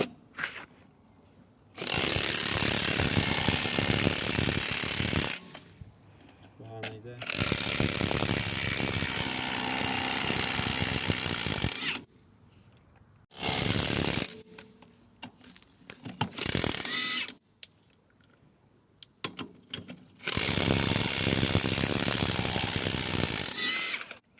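Wrench loosening greased wheel nuts on a jacked-up car, heard as several loud mechanical ratcheting bursts of a few seconds each, separated by short quiet pauses.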